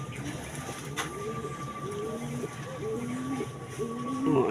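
Soft, repeated cooing of racing pigeons arriving at their loft after a training release, against steady outdoor background noise, with a faint sustained tone running throughout.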